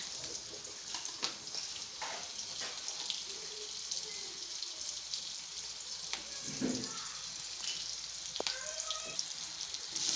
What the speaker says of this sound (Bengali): ডিম ভাজা তেলে আমি পেঁয়াজ দিচ্ছি।